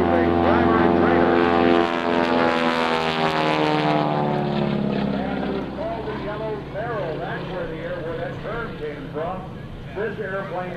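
Boeing Stearman PT-17 type biplane at the 2001 NAES Lakehurst airshow, its propeller engine droning loudly and steadily overhead, the pitch sweeping as it passes, with a commentator talking over the public address.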